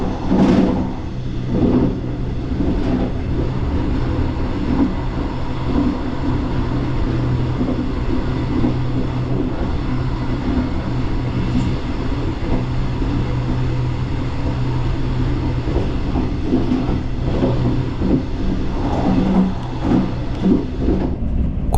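A Mugunghwa passenger train runs on the Gyeongbu Line past Chupungnyeong, heard from on board as a loud, continuous rumble with steady low hum and faint rhythmic track clatter throughout.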